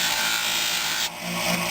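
Red brass part spun in a drill chuck and polished, giving a steady loud rubbing, rasping whir that dips briefly partway through, then continues close and continuous with no talk.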